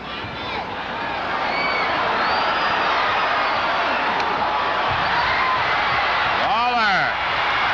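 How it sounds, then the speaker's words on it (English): A large wrestling arena crowd roars steadily during a Jerry Lawler match, a dense sustained wash of cheering and shouting with a few whoops and whistles rising out of it near the end. "Crowd really starting to create a roar to get Lawler started."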